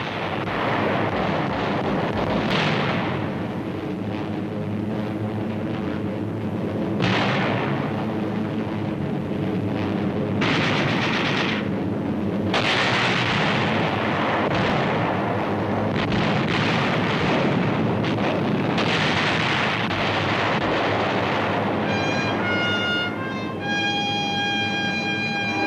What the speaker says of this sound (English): Delayed action bombs.